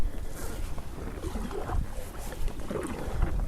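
Kayak paddled without its rudder on open water, with steady wind buffeting the microphone and soft rhythmic splashes of the paddle strokes close by.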